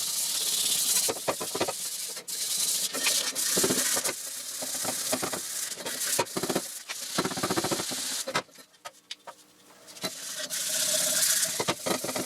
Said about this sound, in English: Sanding them all down, getting all the bluing off, trying to get the scratches off.